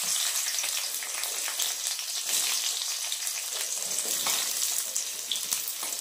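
Jujubes (kul) fry in a pan with a steady, bright sizzle that crackles and stays close and even from start to finish, with no voices.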